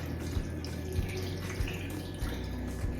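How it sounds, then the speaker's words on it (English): Cold Goya coconut water with pulp pours into a smoothie mix in a steady, close liquid trickle over a low background hum, with a few soft thumps along the way. "I'm gonna add this coconut water."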